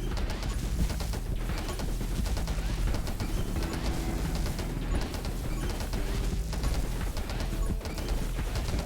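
Constant dense volley of sniper gunfire in the survival shooter 20 Minutes Till Dawn, rapid repeated shots with crashing hits layered over game music throughout.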